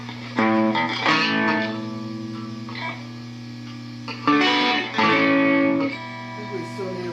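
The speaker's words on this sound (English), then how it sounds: "Let's get our fuzz on with the Fabuloso Seltzerado." Electric guitar played through a Fuzz de la Muerta fuzz pedal into a Fender Tone Master Twin Reverb amp, thick sustained distorted chords ringing out in bursts with pauses between.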